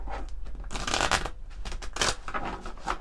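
Oracle cards shuffled by hand, a brisk, close riffling and sliding of card stock in quick repeated bursts, loud and alone.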